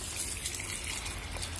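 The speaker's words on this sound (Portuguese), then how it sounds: "Então eu vou estar cobrindo ele de água," Water pours steadily over old dry beans in a container, a continuous close splashing trickle with no pauses.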